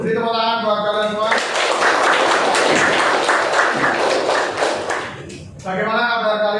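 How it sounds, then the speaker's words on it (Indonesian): Students in a junior high school classroom break into a loud burst of applause lasting several seconds, set between a teacher's spoken words before and after. "Beri tepuk tangan buat kalian semua."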